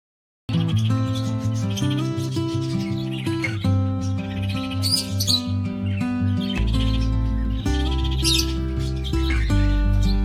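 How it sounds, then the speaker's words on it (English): Parrot chirps and squawky calls ring out over a bright, steady musical backing in a children's alphabet lesson, with the music playing continuously underneath. "P for parrot."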